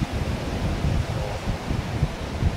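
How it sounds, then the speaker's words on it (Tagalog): Steady wind blowing in the open by the ocean at Baler, Aurora, a broad low rumble with gusty fluctuations, like a sea breeze near the shore with faint surf underneath. "Ang sarap ng simoy ng hangin"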